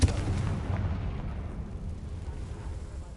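A Confringo explosive spell cast in Hogwarts Legacy: one sharp, loud blast at the start that rumbles and slowly fades over the next few seconds.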